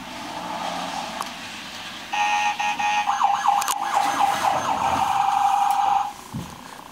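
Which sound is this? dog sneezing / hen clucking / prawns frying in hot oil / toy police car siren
toy police car siren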